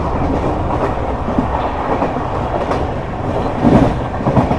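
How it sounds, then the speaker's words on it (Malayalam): A Humsafar Express runs at speed through Vriddhachalam Junction without stopping, a loud continuous rumble with rhythmic clickety-clack from the wheels over rail joints, heard from inside the moving train. "ട്രെയിൻ ഇപ്പോൾ വൃദ്ധാചലം ജംഗ്ഷൻ റെയിൽവേ സ്റ്റേഷനിലേക്ക് എത്തിക്കൊണ്ട് നിൽക്കുകയാണ്. ഇവിടെ വണ്ടിക്ക് സ്റ്റോപ്പില്ല, സ്കിപ്പ് ചെയ്ത് പോകും."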